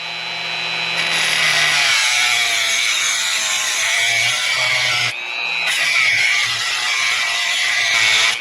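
A cutoff wheel grinds grooves into a steel bolt, a loud continuous high-pitched whine with a brief break midway before cutting resumes, close and steady with no talk.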